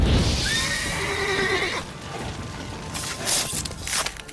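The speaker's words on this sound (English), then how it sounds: "a blast of Igni can spook horses into dropping their riders" A horse whinnies loudly in The Witcher 3 after being spooked by the Igni fire sign, a rising high neigh that lasts under two seconds, followed by faint mechanical clicks and rustling.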